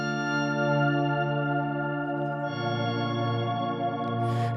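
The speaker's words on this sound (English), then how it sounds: "the little chord swells that sound like this" Ambient electric guitar chord swells shaped by effects pedals fade in as smooth, sustained layered tones, shifting to a new chord midway and ringing on without any attack.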